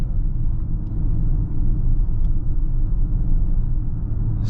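A 2023 Audi Q8 55 Premium heard from inside the cabin on a curvy, bumpy road, giving a steady low rumble of road and engine noise with faint bumps and no talking.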